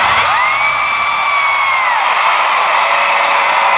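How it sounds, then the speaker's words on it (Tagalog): Concert crowd at a show in Singapore screaming and cheering in a loud, sustained roar, with high-pitched shrieks rising and falling over the dense wall of voices. "Pwede ba natin i-try na sumigaw?"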